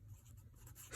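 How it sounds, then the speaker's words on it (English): A pencil scratches briefly and softly across paper during a lesson, a faint short stroke of writing close by. "So I'm going to write Pocahontas"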